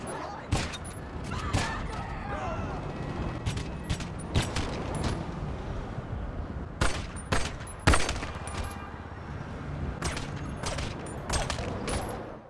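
Repeated pistol shots from a new handgun in GTA Online, fired at a player in a bulletproof helmet: sharp, loud reports in small bursts over a steady background of game ambience, with no talking.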